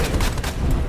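Pistol shots in Resident Evil 2 come as a quick burst of loud, booming reports, several heavy impacts crowding together within a second.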